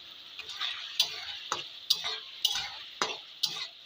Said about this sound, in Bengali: খুলে দিয়ে একবার নেড়ে দেবো